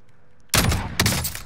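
Rapid loud bursts of M14 rifle fire in Call of Duty Warzone, two sharp volleys close together, the second starting about half a second after the first breaks off.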